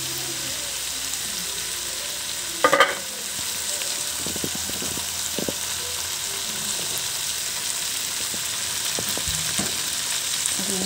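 Bottle gourd (upo) sautéing with tomatoes in a pan, a steady soft sizzle with occasional utensil scrapes and stirring clinks, one sharper clatter early on, no voices.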